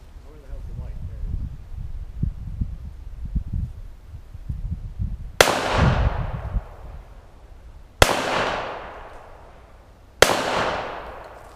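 Three sharp pistol shots from a 1911 fired at a backyard target, spaced a few seconds apart, loud and near with quick decaying echoes, after a stretch of low rumbling and handling noise.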